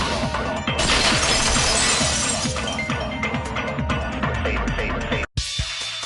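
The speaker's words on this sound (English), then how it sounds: "If it wasn't the window, then what broke to make that sound? A vase." A vase shatters in the Danganronpa 2 video game, a loud crash with scattering glassy fragments that rings on for several seconds before an abrupt cut.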